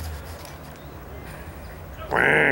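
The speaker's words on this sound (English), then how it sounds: "Oh, we got some Canadian geese here too." Canada geese by a river give a loud honking call near the end, after a stretch of quiet outdoor background.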